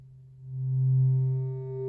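A short, low square-wave synthesizer tone from an ASM Hydrasynth with a hollow, reedy buzz swells slightly and holds for under two seconds, alone.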